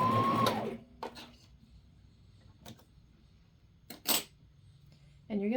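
Sewing machine stitching a wool diaper cover with a back stitch, short mechanical whirring bursts separated by quiet pauses, close and fairly soft, with a brief voice at the start.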